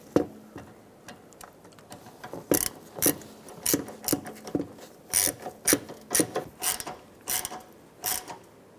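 Ratchet driving a screw into a car's bumper liner on a 2006-2013 Chevrolet Impala, giving close, quiet bursts of rapid clicks in irregular rhythm, with no talking.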